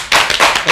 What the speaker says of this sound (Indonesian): Tepuk tangan untuk Fajri.